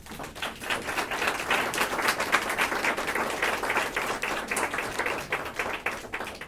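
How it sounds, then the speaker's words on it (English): An audience at the opening of a 72-hour filmmaking shootout gives a round of applause, a moderate crowd of many hands clapping steadily and fairly close. "So let's give a round of applause for all of you."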